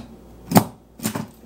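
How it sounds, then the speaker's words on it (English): A stamp pressed onto an egg carton during egg packing, heard as two sharp, close knocks about half a second apart against a quiet background. "I'm going to stamp it there."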